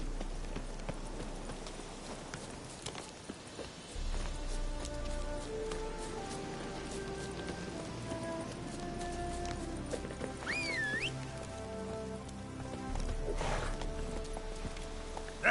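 Horse hooves clip-clopping at a run in the video game Witcher 3, steady and fairly close over a game soundtrack with sustained musical tones, with no talk.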